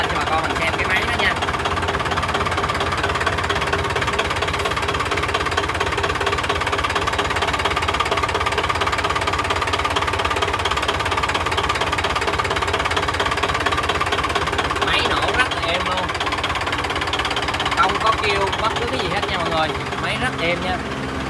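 The diesel engine of a 2011 Dongfeng Truong Giang truck with a long cargo bed runs steadily nearby, a loud, rough, knocking chug throughout, with someone speaking over it.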